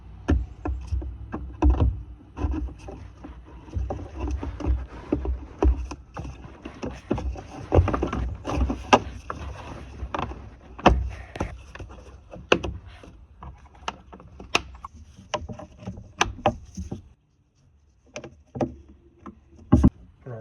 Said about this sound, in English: Now we'll reinstall the upper airbox.